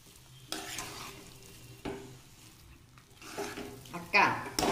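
Potato fry is stirred and tossed in a pan, soft scraping and sizzling strokes building to louder clatter near the end, close-up, with faint background voice.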